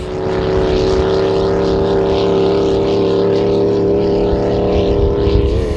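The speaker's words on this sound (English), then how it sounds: "Spectators had a chance to hear and feel the power these boats can make" Offshore racing powerboats, capable of nearly 200 mph, roar loudly and steadily on the Taunton River, a dense sustained engine drone with no talk.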